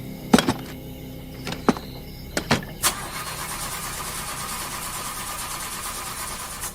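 A car engine being restarted after about an hour of repair work: several loud thunks and cranking bursts, then the motor catches and settles into a steady, even idle.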